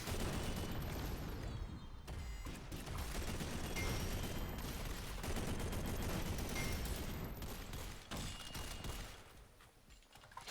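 Pioneer SMG fire in the video game SYNTHETIK 2 makes dense, loud, continuous automatic gunfire mixed with booms and impacts, nearly unbroken before it thins out near the end.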